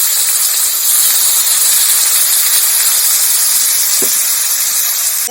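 A steady, loud hiss of frying fills the whole stretch, an even sizzle of onions and chillies hitting hot oil with no voices.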